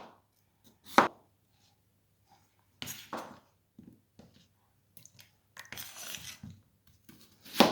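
A knife cuts potatoes on a cutting board, making a few sparse, crisp chops spread out with quiet pauses between them, close by, with no one speaking.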